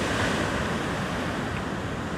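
Heavy ocean swell and waves surge around a rock fishing spot at Avoca, a loud, continuous roar of surf and wash with wind noise, steady throughout and with no talking.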